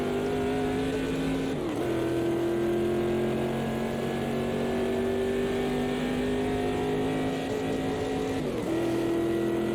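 A Corvette C3 GT classic race car in the AMS2 racing game howls at Bathurst, a sustained close engine note rising in pitch through the gears with two brief shift dips.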